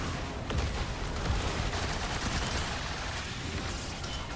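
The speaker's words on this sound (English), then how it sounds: "using machine guns" Machine guns fire in Trailmakers from a Warhammer Repulsor tank, a dense, continuous rattle of gunfire that stays loud and steady throughout with no pauses.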